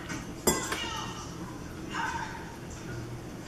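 Broth ladled into a bowl, with a sharp metal clink of ladle against the dish near the start and soft liquid pouring and utensil clatter after, close by, with a voice talking over parts of it.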